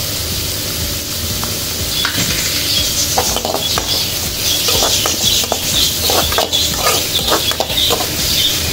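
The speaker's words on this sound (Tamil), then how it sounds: "ஒரு அளவு வதங்குற வரைக்கும் கிண்டி விட்டுருங்க" Onions and lady finger (okra) sauté in a hot pan while being stirred, giving a steady loud sizzle with scraping and pattering from the stirring, close and with no talk.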